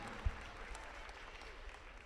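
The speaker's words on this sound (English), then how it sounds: "And get another big applause here from DCA, Grace Bourgois." Applause from the crowd at a girls' high school basketball regional championship game in a gym, fairly faint and distant, a steady wash of clapping with one sharper thump near the start.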